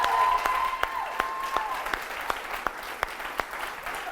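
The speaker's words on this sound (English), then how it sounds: "let's give her one more round of applause for Sandra." A crowd claps steadily and enthusiastically, with a few sharp individual claps standing out; no voices over it.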